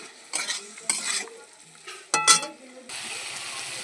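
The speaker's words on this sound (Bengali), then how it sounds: "মশলা দিয়ে আলুটা একটু কষিয়ে নিলাম।" Boiled potatoes stir-fried with spices for a broccoli dish, a spatula scraping and clattering in bursts over a soft sizzle that swells louder toward the end.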